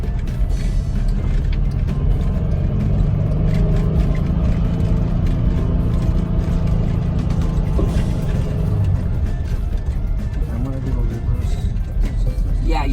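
The engine of a 1972 Westfalia camper rumbles loudly and continuously at close range, holding at higher revs with a steady, throaty mechanical drone while people talk over it.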